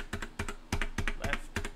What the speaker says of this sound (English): Another thing I can do is I can move around with the arrow keys.